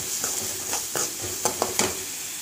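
Sliced onions sauté with salt in a pan, a soft steady sizzle broken by a handful of light scraping stirs and clinks of a spoon against the metal, quiet and close.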